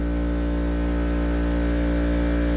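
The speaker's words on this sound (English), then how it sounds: "Compressor's still running in the background." An air compressor runs in a garage with a steady, loud mechanical drone and hum that holds constant throughout, with no talking.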